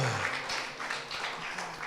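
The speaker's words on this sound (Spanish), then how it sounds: "Dele un aplauso al Señor, hermano" A church congregation claps for the Lord during a Spanish-language sermon by Pastor Jonatan, a fairly faint, dense spread of hands filling the room.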